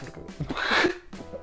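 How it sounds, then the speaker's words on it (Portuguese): A single sharp sneeze bursts out with a breathy intake before it, short and fairly close, followed by quiet. "Eu quero espirrar"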